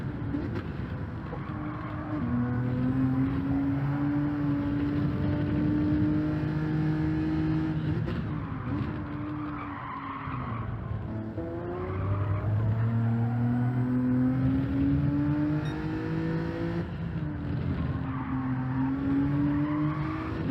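A 2002 Honda NSX at full race pace around Tsukuba circuit, its engine loud and close as it climbs through the revs and shifts gears again and again, with no talking over it.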